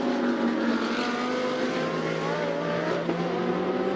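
GT2 race cars lapping the Red Bull Ring, including an Audi, with engines droning and shifting pitch as they rise and fall together, at a steady mid distance.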